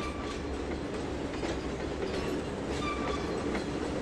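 Freight cars on the Trainz 2022 Tidewater route, including Canadian National and Swift intermodal units, roll steadily along rails with a continuous rumble and faint clickety-clack, heard alone and at a constant level.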